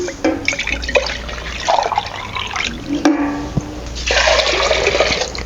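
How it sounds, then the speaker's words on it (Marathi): Water gushes and splashes into a pot in a few bursts, loud and close, with brief pauses between pours. "आता आपण परत आणि ह्यामध्ये पाणी घालूया"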